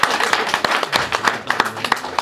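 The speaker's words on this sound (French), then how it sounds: "Donc, je vais les applaudir s'il vous plaît." A small crowd claps in thanks, with uneven, fairly close hand claps rattling along briefly under a faint voice.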